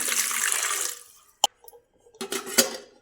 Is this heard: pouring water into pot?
yes